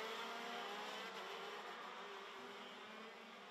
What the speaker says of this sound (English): You can just hear the sheer brutality as they go up the gearbox in these karts